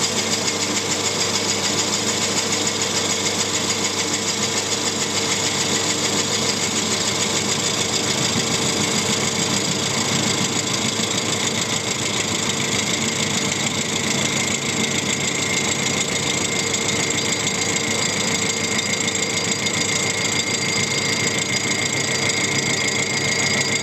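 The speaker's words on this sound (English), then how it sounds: "This boring tool will probably do the job." A steady, loud machining drone runs without a break, a lathe boring tool cutting a metal cylinder liner puller part with a constant whirring hum and faint scraping texture.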